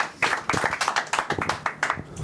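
A comedy club audience claps with distinct, closely spaced hand claps from a modest crowd, near and fairly loud, with a slight irregular rhythm.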